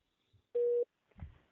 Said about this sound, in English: I'll see if I can connect the two of you via cell phone.